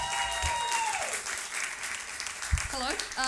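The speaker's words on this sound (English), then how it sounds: "Let's give a big round of applause" Audience applause at a Smokefree Rockquest solo/duo rock contest heat in Auckland, a steady wash of clapping throughout with a brief loud thump and a presenter's voice cutting in over it.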